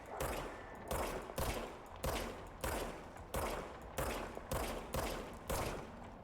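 Gunfire from a handgun in the video game Control: eight loud, evenly spaced shots, each a sharp crack with a short decaying tail, fired alone with no talking.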